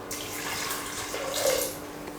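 Water is poured into a pressure cooker holding dal with garlic, turmeric and salt, giving a brief steady splashing gush close by with no talking.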